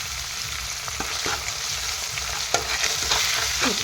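Fish curry spices with salt and turmeric powder fry in a pan, a constant close sizzle broken by several sharp scraping strokes of a spoon as everything is stirred together.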